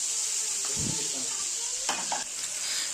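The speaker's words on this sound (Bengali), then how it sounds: "আমি এখানে চর্বিগুলোকে প্রথমে দিয়ে দিলাম তেলের সাথে এই চর্বি থেকে কিন্তু অনেকটাই তেল বেরোবে" Pangas fish fat fries in hot oil with a constant close sizzle and hiss, while a utensil stirs and scrapes the pan a few times.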